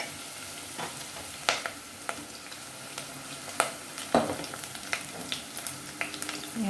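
Ginger, garlic and chili frying in a pan, a soft steady sizzle with occasional sharp pops and stirring clatters, close and fairly quiet, no talk.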